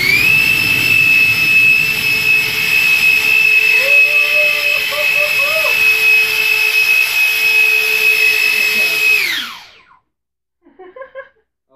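A jet-powered scooter engine runs at full throttle, a loud steady roaring whine held for several seconds that then winds down sharply and fades, followed by a few faint sounds.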